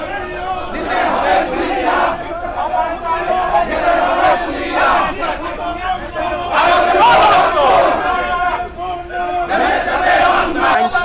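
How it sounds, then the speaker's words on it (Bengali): Lawyers, including Supreme Court advocates, chant protest slogans at a closed High Court gate with police outside, loud massed voices rising and falling in steady rhythmic bursts throughout. "এখানে আইনজীবীরা কিন্তু আসলে তারা স্লোগান দিচ্ছেন"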